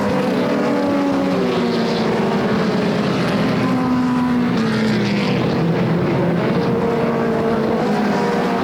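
SOMA modified race cars racing at Flamboro Speedway, loud continuous engine drone with rising and falling pitch sweeps as cars pass and work through lap traffic, sustained throughout with no talk.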